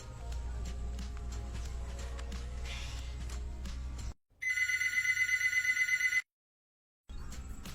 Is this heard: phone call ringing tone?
yes